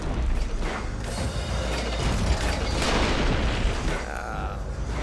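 A crane smashing things in Sunset Overdrive, a continuous loud clatter of crashing, creaking and grinding debris with mechanical ratcheting throughout, close and dense, no clear talk.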